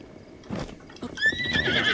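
In Breath of the Wild, a horse gives a loud, rising whinny right up close, preceded by soft hoof clip-clops and shuffling.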